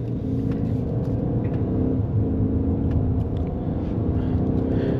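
A 2024 Ford Maverick XLT Hybrid pickup heard from inside the cabin while accelerating, a steady low engine and road rumble that holds even and smooth with no sharp shifts.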